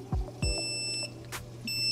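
An ICECAP auto top-off alarm on an aquarium sounds a steady, piercing electronic tone, with a short high beep near the end, over low thumps and room hum.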